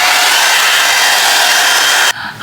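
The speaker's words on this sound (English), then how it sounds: "let me see if I can dry this with a hairdryer" A hairdryer dries a lino print, its loud, steady airy whoosh running continuously up close before abruptly cutting out near the end.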